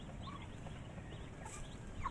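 Soft clucks and peeping chirps from small chickens close by, scattered over a low, steady background rumble.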